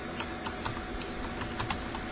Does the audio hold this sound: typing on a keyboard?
yes